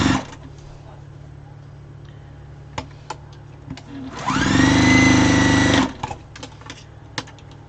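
A sewing machine runs in one sustained burst of about a second and a half, stitching longer fabric scrap pieces together to make yardage, with quiet room sounds and scattered small clicks before and after.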